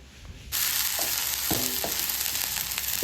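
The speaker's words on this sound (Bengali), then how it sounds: "দিয়ে কষাতে থাকবো। ডিমগুলি তেলের উপর ছেড়ে দিলাম।" Duck eggs drop into hot oil with turmeric, cumin, coriander and pepper, bursting into a loud, continuous sizzle after a quiet start, with a few clicks and scrapes of stirring over the hiss.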